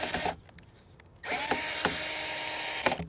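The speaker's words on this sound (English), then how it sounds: "Tap in some screws here" Power drill driving screws into a wooden corner brace, two whirring bursts, a short one then a longer sustained run, each ending with a sharp click, close and loud.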